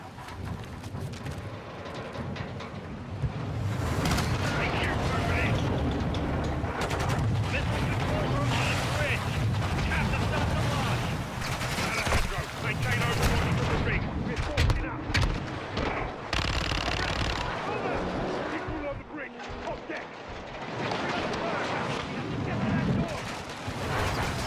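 Intense gunfire fills a Call of Duty Modern Warfare 2 firefight, with rapid automatic bursts and booming shots rattling continuously, occasional spoken lines buried under the shooting.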